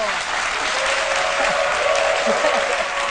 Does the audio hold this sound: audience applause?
yes